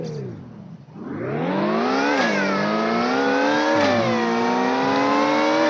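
A car accelerating in the video game Car Dealership Tycoon: the engine note climbs steadily with two gear shifts, loud and close, with no talk over it.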